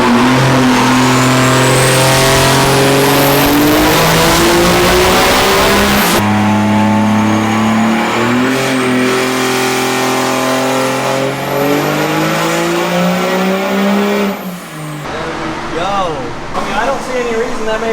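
A Cummins diesel truck engine of about 916 horsepower roars at sustained high revs on a dyno pull, its pitch climbing through a long pull, then dropping off near the end; loud, close, and continuous.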